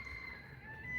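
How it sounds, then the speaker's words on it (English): Rooster crowing in a single steady, sustained call, faint and distant over a low background hum. "There you go, the rooster crowing."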